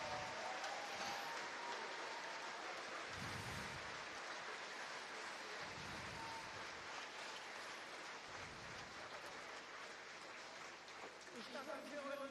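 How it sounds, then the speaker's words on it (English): Audience applause at a solidarity gathering, a dense wash of clapping that fills the whole stretch at an even level, with a few duller thumps mixed in. "I thank you very much for your applause"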